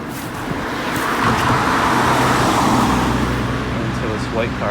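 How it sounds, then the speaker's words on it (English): A white car passes on a roadside street with other traffic nearby, its tire and engine rumble swelling and fading over a few seconds close to the listener, with steady traffic noise underneath. "Until this white car passes."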